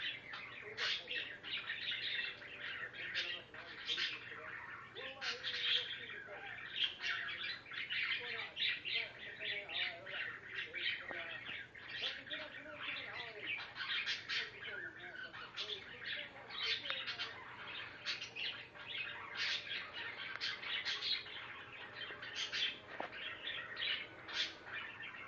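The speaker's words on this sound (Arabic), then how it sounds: "ترى هذا تقريد تزاوج يعني" Budgerigars chirp and warble a mating song, a continuous stream of rapid high twittering and squawks over a faint low hum, moderately quiet and close.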